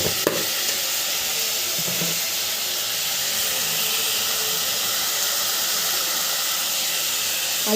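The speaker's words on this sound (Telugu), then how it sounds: "ఉల్లిపాయ టమాటా ముక్కలు వేగడానికి టైం పడుతుంది" Onion and tomato pieces frying in a pan with salt for a cauliflower tomato curry, a loud, steady sizzle and hiss up close, with a few light stirring knocks near the start.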